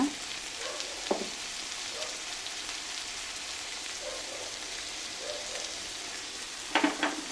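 Onions and tomatoes sautéing in a pan give a steady low sizzle, with a few brief scrapes of stirring near the start and at the end.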